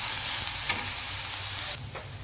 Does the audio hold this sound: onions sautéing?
yes